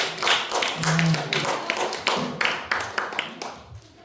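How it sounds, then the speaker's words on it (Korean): A church youth congregation claps for the senior students in an energetic burst of many hands, crisp and close, keeping up a busy rhythm for a few seconds with light murmuring underneath. "우리 고3 형님들한테, 누나들한테 힘내라고 박수 한번"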